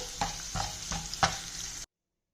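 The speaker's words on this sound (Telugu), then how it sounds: "దోరగా వేపుకోవాలండి" Toor dal roasting in a dry pan: a soft sizzle with a few quick stirring scrapes, close and brief.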